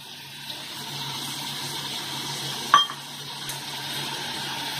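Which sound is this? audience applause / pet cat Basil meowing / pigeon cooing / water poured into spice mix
water poured into spice mix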